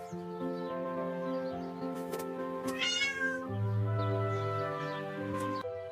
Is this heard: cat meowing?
yes